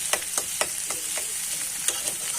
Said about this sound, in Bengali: তাই জন্য আমি ডিমটাকে সাইডে একটু ভাজা ভাজা করে নেব